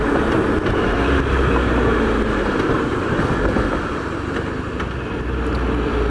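A 2016 Triumph Trophy motorcycle cruises along a fast road, its engine a steady drone blended with heavy wind rush, loud and continuous throughout with no talk.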